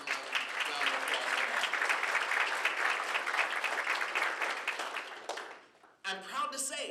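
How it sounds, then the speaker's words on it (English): Audience applause at a community climate meeting, a full, sustained wash of clapping that fades out over several seconds before a voice begins speaking. "Give yourselves an enormous round of applause."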